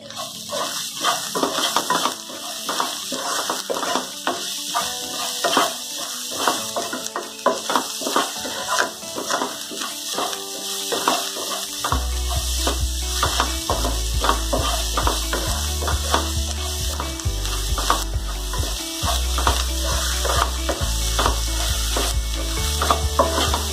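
Shark puttu sautéed with salt in a pan gives a steady scraping, crackling stir with rapid clicking strokes, joined midway by loud background music.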